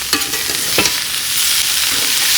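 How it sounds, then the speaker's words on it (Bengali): Frozen bitter gourd fries in a pan with only a little oil, giving a loud, bright, constant sizzle with two or three sharp spatula scrapes early on, heard up close with no voices. "আর এখানে হচ্ছে আমার উচ্ছে ভাজা।"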